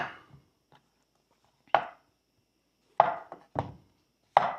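A knife slicing zucchini in half on a cutting board for Tex-Mex stuffed zucchini, about five crisp thunking chops spaced a second or so apart, close and clear against a quiet kitchen.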